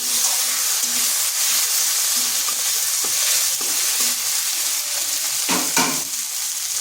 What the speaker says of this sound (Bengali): আদাটাকে একটু ভেজে নিলাম